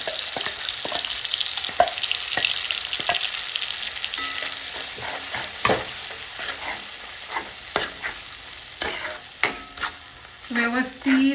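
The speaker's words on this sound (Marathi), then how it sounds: "व्यवस्थित हा मसाला आपल्याला शेकून घ्यायचा आहे।" Ground masala paste hits hot oil with a steady sizzle and fry, broken by repeated spoon scrapes and stirring clatter against the pan; close and continuous, with no talking.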